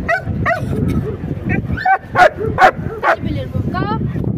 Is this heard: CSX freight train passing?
no